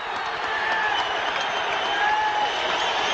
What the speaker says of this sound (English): Tommy Hearns tapped his mitts a little, gave him applause.